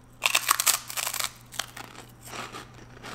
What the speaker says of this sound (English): listen to this crunch, guys. This is why Kim Pops are far superior to rice cakes